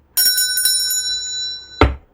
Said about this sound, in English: Let's ring this bell. This is a bell.